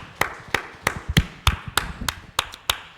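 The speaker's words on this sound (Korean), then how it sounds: "우리 하나님께 감사의 박수하겠습니다" A church congregation claps in thanks to God during a Sunday worship service, heard as a string of evenly spaced, sharp hand strikes, roughly ten in three seconds, moderately loud. No talking accompanies the claps.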